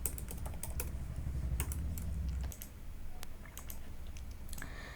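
Steady close-up typing of code on a computer keyboard, quick irregular clicks in continuous bursts with a brief pause midway, over a faint low hum.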